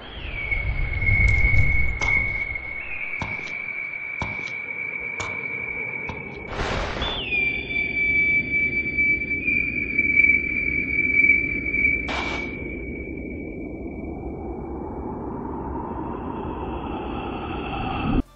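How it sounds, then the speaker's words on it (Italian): A sustained high, thin whistling tone runs steadily throughout, joined by a few sharp bursts and a low rumbling bed underneath, like wind whistling, in the video game Elden Ring. "il suono che sentiamo sia il vento creato dalla nostra esplosione di fiamma"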